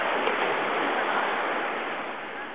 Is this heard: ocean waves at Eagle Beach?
yes